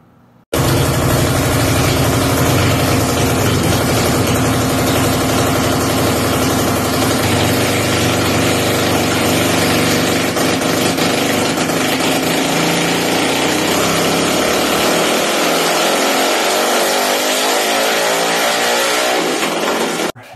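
A junior dragster engine, freshly rebuilt, roars at high RPM on a dynamometer, a loud, sustained mechanical wail that holds steady before dropping sharply near the end as the throttle closes.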